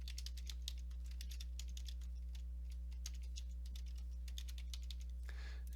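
Quick, steady typing on a computer keyboard while entering text into a presentation slide: a run of light keystroke clicks over a constant electrical hum, with no talking.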